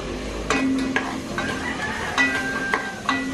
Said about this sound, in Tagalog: Ayan, nagigisa na siya.